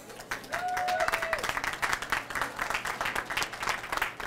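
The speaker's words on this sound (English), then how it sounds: "a big round of applause, please, for Tom Balinoff" Applause from the audience at an immigration and voter education press conference, a room of clapping hands that swells quickly, then pulses on unevenly as it thins, with a brief whistle near the start.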